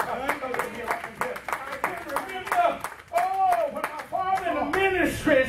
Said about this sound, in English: Go ahead and give God a hand clap of praise.